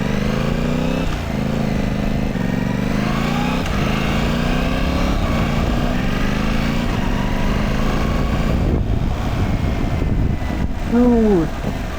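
A Yamaha R7 sport motorcycle fitted with a new aftermarket exhaust system idles and revs loudly up close, its engine note rising and falling continuously, with a brief voice near the end.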